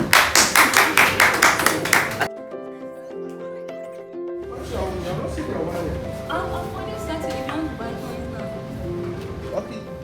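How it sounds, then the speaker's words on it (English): Quick, evenly spaced hand claps from a group at a Bitcoin academy session in Cameroon ring out loud and close for about two seconds, then stop, and music with voices follows. "Clap for you"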